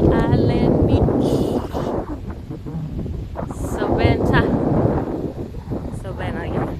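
Strong gusty wind on Tybee Island beach buffets the microphone in heavy roaring bursts, loud and continuous, while people talk over it.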